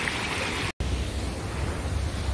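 Heavy surf breaking on a beach at Trindade, Rio de Janeiro, with very high waves of two to three metres, a steady loud roar and wash filling the whole clip, with no talk.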